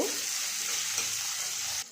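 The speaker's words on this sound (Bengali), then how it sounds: "এদিকে পেঁয়াজ কুচিটা এখন ভাজা হোক" A loud, continuous sizzle of chopped onions frying in hot oil, an even hiss close by that cuts off abruptly at the end.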